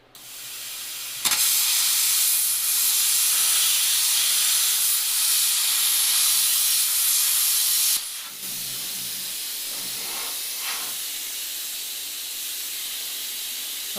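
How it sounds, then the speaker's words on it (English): A plasma cutter blows holes through seized exhaust bolts on a Chevrolet Cobalt SS, a loud, close, continuous hissing blast of about seven seconds that cuts off abruptly, then a quieter steady airy hiss continues. "we're gonna use the plasma, hopefully, And we're just gonna blow holes through it"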